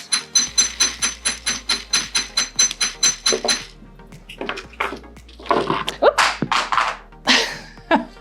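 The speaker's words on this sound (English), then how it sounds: "Can I hammer this last one too?" A hammer strikes metal jewelry being made as a Father's Day gift, first in a quick, steady run of about twenty close, ringing taps, then in looser, irregular clinks and knocks.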